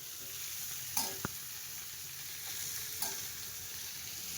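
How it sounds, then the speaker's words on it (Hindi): Jackfruit frying in a pan for a curry with onion and tomato gravy, a steady, fairly quiet sizzle with a couple of brief clicks of a utensil, no voices. "जब तक ये कटहल फ्राई होगा"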